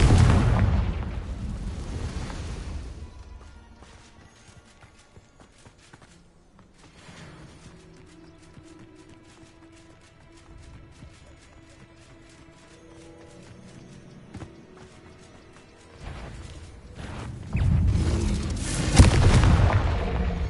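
Confringo fire spells exploding during a Hogwarts Legacy battle: loud, heavy booming blasts open and close the stretch, with quieter crackling bursts and rattling impacts between them.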